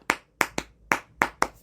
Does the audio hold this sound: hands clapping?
yes